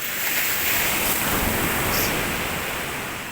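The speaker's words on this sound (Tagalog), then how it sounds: "Ganda ng dagat." Sea waves wash continuously in a dense, broad rush of surf, loud and close, with a slight swell midway and a gentle easing toward the end, with no voices.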